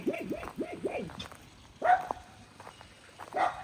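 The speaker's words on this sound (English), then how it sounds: "I'm sure you can hear them barking." Dogs in the care of a dog sitter bark in a quick run of several sharp barks, then two more isolated barks after a pause, fairly close and moderately loud against a quiet background.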